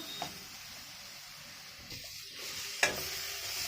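A pointed gourd mash with chilli powder and amchur is cooked down in a pan, producing a faint, soft sizzle with an occasional light scrape and one sharper clink near the end. No one speaks.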